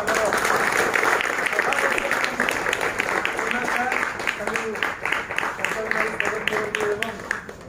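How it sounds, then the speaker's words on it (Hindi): Audience at a dance masters' association meeting claps in welcome, a dense sustained round of applause filling the hall, with a speaker's voice carrying over the clapping and fading slightly toward the end. "समस्त को अनुरोध करी करताली मारी स्वागत करेंगे"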